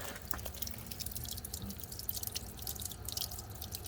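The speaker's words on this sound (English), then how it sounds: "And here we have water coming out." Water trickles and drips steadily from a household hot water outlet, irregular splashy patter at close range, fairly quiet, with no voices.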